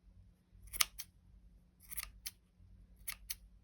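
Scissors snip at a small yarn pom-pom in three close, crisp pairs of cuts spaced about a second apart, each quick double snip sharp and clear against near silence.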